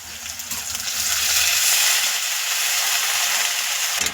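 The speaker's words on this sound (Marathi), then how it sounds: "जेव्हा आपण कोथिंबीर टाकली तेव्हा परतून घेऊया" Coriander and moong dal sauté in hot oil with a steady, dense sizzle that holds loud and close for the whole stretch, with no talking.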